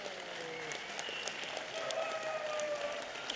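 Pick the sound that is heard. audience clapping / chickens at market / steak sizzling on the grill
audience clapping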